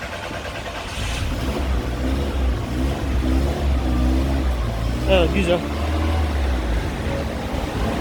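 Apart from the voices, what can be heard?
car engine revving after jump start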